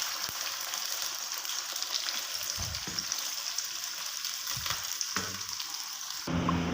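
Three medium onions fry in hot oil in a pan for a chicken masala, giving a steady close hiss and crackle with occasional stirring scrapes and no talk.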